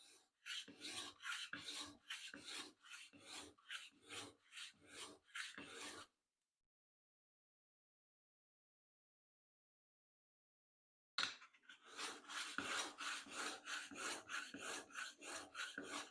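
A metal plane blade is honed on a diamond plate in a woodworking shop, with rapid rhythmic rasping strokes for about six seconds, a pause of silence, then another run of even back-and-forth strokes, close and clear.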